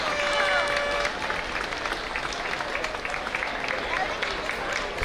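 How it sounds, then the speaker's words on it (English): Spectators at a ninja obstacle competition, the World Ninja League Championships, applaud and cheer steadily for a teen girl on the course, a dense continuous wash of clapping and shouts throughout. "A lot of encouragement from everyone in the crowd."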